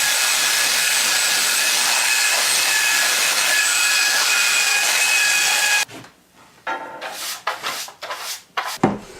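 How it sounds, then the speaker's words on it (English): A belt sander runs steadily on a wooden pontoon board with a loud, continuous whirring rasp for several seconds, then cuts off, followed by a few scattered knocks and handling sounds. "Some light sanding with a belt sander"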